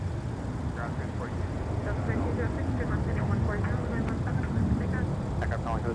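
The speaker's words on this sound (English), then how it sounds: "Here's Sun Country, the 737 Boeing converted freighter from AFW" A Sun Country Boeing 737 converted freighter at MSP airport gives off a steady, broad jet engine roar that fills the scene, with faint airport radio chatter running underneath.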